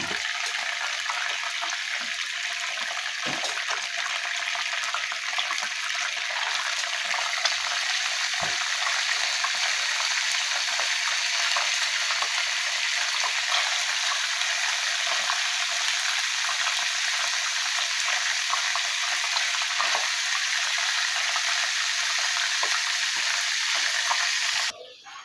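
Meatballs cooking in a spacious pot, a steady bubbling sizzle with a hissing broadband texture that stays even and moderately loud for a long stretch, then cuts off.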